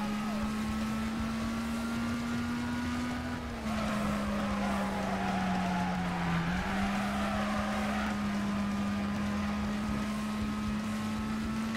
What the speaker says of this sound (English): A bit of synchronized drifting